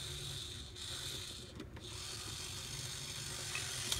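A Trackmaster Rocky toy crane swings its hook and lifts a crate, giving a faint, soft mechanical ratcheting and rubbing that runs steadily and quietly throughout.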